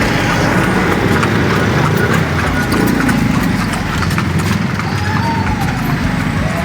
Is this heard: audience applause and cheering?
no